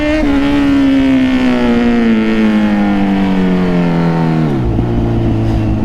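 A vehicle engine revs lightly, a loud, smooth tonal drone whose pitch slowly drifts downward before dropping suddenly near the end as the throttle eases off, close and steady with no talk.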